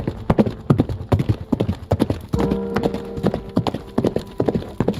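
Horse hooves clip-clop in a radio-drama sound effect for a lone ride across a gloomy countryside, a steady rhythmic trot of sharp close hoofbeats with a brief whinny midway.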